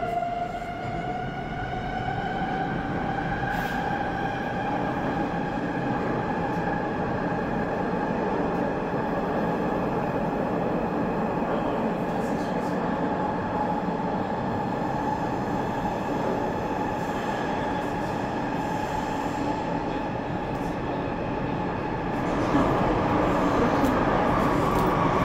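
An RER NG Z58000 train runs between Paris stations, a steady loud rolling drone with rising whining motor tones, constant throughout and swelling slightly near the end, with no talk.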